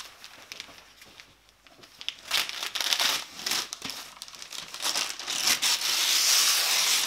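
Wrapping paper torn off a birthday gift of a handmade chessboard, with close, continuous crinkling and ripping that builds in loudness over several seconds.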